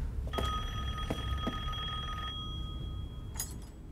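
A telephone rings inside the video game Resident Evil Village, giving two short ringing bursts with a steady electronic tone between them, heard at moderate loudness over low background hum.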